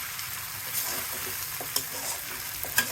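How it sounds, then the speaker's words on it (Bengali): Noodles with kidney beans frying in a pan, a steady hiss of sizzling oil with occasional scrapes and clinks as they are stirred, close and moderately quiet, with no one talking. "রান্না হচ্ছে নুডলস কিডনি বিনস দিয়ে।"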